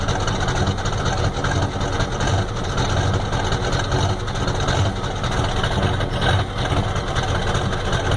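A 1993 Ford F-250 with a 7.3L IDI diesel engine idles close by, giving a steady, loud, rumbling drone with a constant knocking texture that never pauses.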